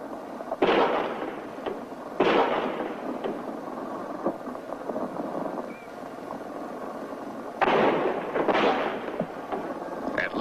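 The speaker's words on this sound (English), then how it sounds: "At least 4 shots were fired," Gunshots in the JFK assassination footage at Dealey Plaza, several sharp distant cracks spaced seconds apart over a steady rumble of crowd or motor noise, with no voices heard.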